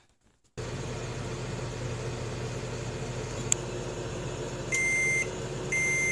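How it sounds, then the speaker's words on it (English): A microwave oven heating potatoes hums steadily after switching on, followed by two loud electronic beeps near the end. "we're gonna microwave it."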